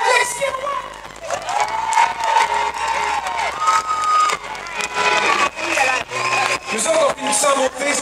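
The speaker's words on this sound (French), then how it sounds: "on lui donne une bonne main d'applaudissement chaleureuse" Concert crowd at a show in Asbestos in 2019 cheering, whooping and clapping loudly for a performer, with shouts rising and falling in waves over faint music and voices underneath.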